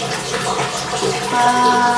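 Steady tap water runs while dishes and a frying pan are washed at a home sink, a continuous rushing flow with a faint hum rising near the end.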